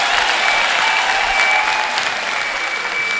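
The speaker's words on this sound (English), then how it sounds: "Can we give them a big round of applause?" Loud, dense audience applause at a graduation ceremony, steady clapping from a large crowd that fills the whole stretch without a break, greeting a student choir.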